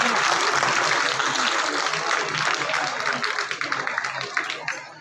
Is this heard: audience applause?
yes